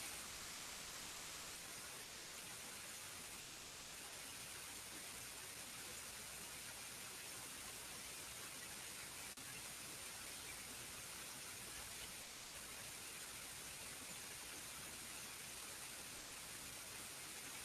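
The roar of Niagara Falls plays back from a video as a steady, unbroken wash of rushing water, even and dense throughout with no voices.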